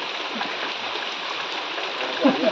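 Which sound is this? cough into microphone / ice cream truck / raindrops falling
raindrops falling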